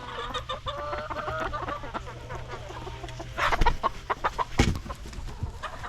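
A flock of hens clucks and murmurs as they settle in a coop to roost for the night, with a denser burst of louder clucks midway; no one speaks.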